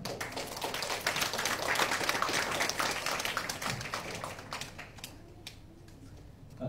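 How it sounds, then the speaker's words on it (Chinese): An audience at a poetry-and-music concert applauds four guests onto the stage, a thick patter of clapping that holds strong for several seconds before thinning out and fading. "那我们再次用热烈的掌声欢迎四位嘉宾上台"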